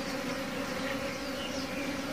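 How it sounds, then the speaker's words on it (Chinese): Swarm of honeybees flying around beehives at a large apiary in spring, a dense continuous buzzing drone close by, steady and without talk. "哇，这么多蜜蜂飞来，"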